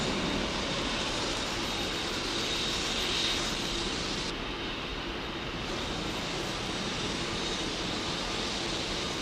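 Virgin jet airliner on runway 09R at Heathrow, a loud, steady broadband engine roar held close throughout with no talk over it.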